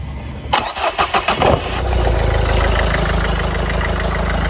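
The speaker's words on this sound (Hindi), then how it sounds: "मैं कार स्टार्ट करता हूँ" A used car's engine cranks in a quick run of rhythmic starter pulses, then catches and settles into a steady, close idle that holds to the end.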